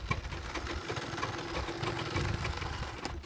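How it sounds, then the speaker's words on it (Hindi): Sewing machine running steadily while stitching a seam on a round saree, a close, continuous mechanical whir that holds for a few seconds before stopping. "ये हमने एक सिलाई लगा ली है, अब एक सिलाई हमें और लगा लेनी है।"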